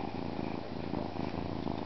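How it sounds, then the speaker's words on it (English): A cat purrs steadily and close up, a continuous low rumbling throb with no voices over it. "I just purring away, having a good time."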